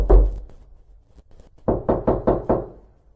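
A wooden door bangs, with one heavy thump and a few faint taps, then five loud, evenly spaced knocks close by in a quiet room.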